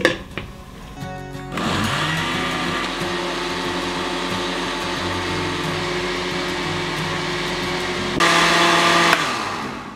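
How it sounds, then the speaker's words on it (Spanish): A blender whirs loudly and continuously for several seconds blending chili sauce with water, its motor pitch steady, then briefly revs higher before stopping. "Y ahora sí, ya lo vamos a licuar otra vez."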